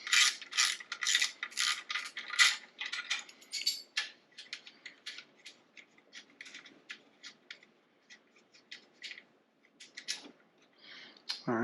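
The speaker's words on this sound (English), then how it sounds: "I'm going to remove the light with the 10 millimeter and the T30." Small tools work a fog light off a 2012 BMW R1200 GS Adventure with a 10 mm wrench and a T30 driver: a run of crisp metallic clicks and ratcheting ticks, busy and close at first, then sparser and quieter, with no talk.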